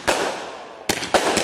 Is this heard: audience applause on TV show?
no